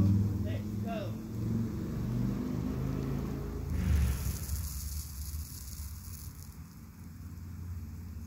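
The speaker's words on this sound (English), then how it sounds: "So you hear noise, cars and things coming past." Cars and other traffic pass along a road near a home driveway in the evening, giving a steady low rumble with one vehicle swelling louder midway, while a voice talks over it.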